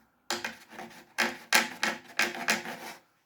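Rubbing a burr off a freshly drilled sound port in a second-hand Seagull Artist acoustic guitar by fingernail: about six short, dry rasping strokes in an uneven rhythm, close and clear with no talk.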